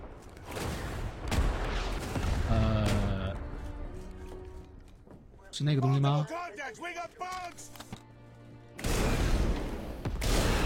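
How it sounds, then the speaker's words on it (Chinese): Bombing explosions in the video game Starship Troopers: Extermination, bursting in loud, heavy barrages at the start and end, with game voices and a player talking in between. "如果敌人太多的话，就可以轰炸"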